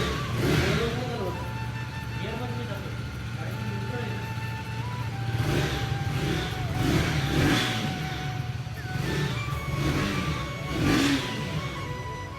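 A new KTM motorcycle engine idles and revs repeatedly, with several rising surges over a steady mechanical drone, while people talk nearby.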